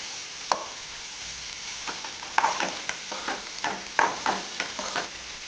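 Sweetcorn chevdo fries in a pan while being stirred repeatedly, with a light sizzle beneath irregular scraping and tapping strokes of the spoon.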